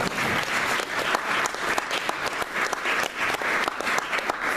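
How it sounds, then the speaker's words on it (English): An audience at an academic prize lecture bursts into applause, with crisp individual claps clearly audible in a lively, sustained round. "That deserves an applause."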